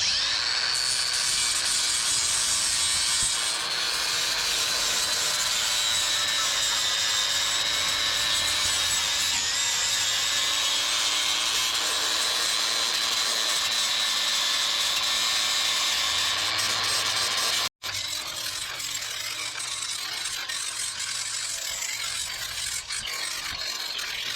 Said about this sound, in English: We'll try this flapper disc first.